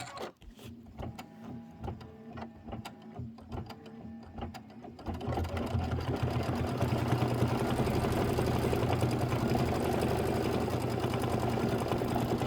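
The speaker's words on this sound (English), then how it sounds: "we're going to have a big, thick satin stitch" An embroidery machine sews a big, thick satin stitch, starting with sparse mechanical clicks and taps before settling into a loud, dense, continuous rapid stitching hum for the rest.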